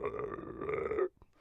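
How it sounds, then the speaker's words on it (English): A stomach growl sound effect for a manga dub: one sustained, gurgling rumble lasting about a second, fairly close and clear, with no talk over it. "that's the stomach growl I decided to go with for this chapter."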